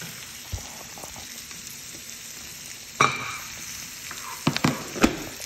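An egg poured into a hot pan for a leftovers rice dish crackles and sizzles at close range, with stirring, a sharp splash onset midway and a few scraping knocks near the end; no one speaks.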